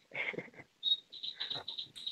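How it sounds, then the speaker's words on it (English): Birdsong outdoors: a string of high, clear chirps and whistled notes, fairly close and alone, with a few short rougher calls at the start. "Hopefully, y'all can hear the birds behind me."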